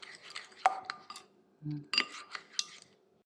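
A spoon clinks and scrapes in a small dish as teriyaki sauce for salmon is mixed, giving short irregular taps and a brief dull knock in a quiet room, with no voices.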